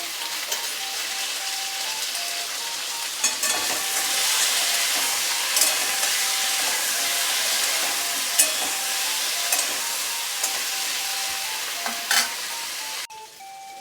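Vegetable curry with pointed gourd, salt and turmeric frying in a pan, a steady close sizzle with soft stirring scrapes running throughout, alone without talk.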